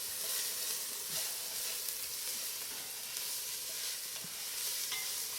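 Two or three garlic cloves sauté with softened vegetables in a pan, making a soft, steady hiss and sizzle with occasional faint stirring scrapes and no voices.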